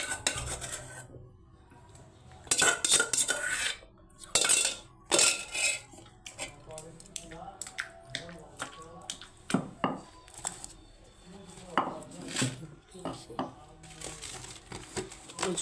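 Tomatoes and green chilies ground together for chutney, with irregular knocks, scrapes and clatters of the grinding vessel, some loud bursts among quieter rubbing, while people talk intermittently.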